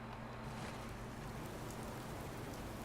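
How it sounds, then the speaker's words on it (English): Steady rain in the video game Fallout, a soft, even hiss of falling water with a low rumbling undertone, continuous and fairly faint throughout. "Hope this rain lets up soon."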